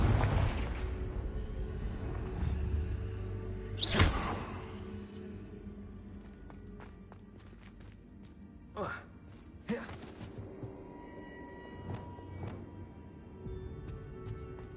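A Confringo blasting spell from Hogwarts Legacy lands as a sharp loud blast, followed by a few fainter thumps and booms scattered over a quieter game backdrop, with a voice speaking at times.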